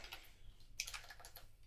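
Soft, rapid clicking of fingers typing on a computer keyboard, a quiet scattered run of keystrokes with no talking.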